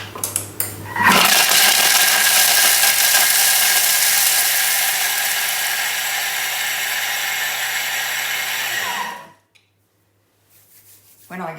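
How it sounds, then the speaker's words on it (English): A Thermomix grating parmesan cheese on speed 9 gives a loud, close, high-pitched whirring grind for about seven seconds before cutting out to near silence, with a few small clicks around it. "we're going to finely grate our parmesan cheese. So it says to put the lid on 7 seconds on speed 9"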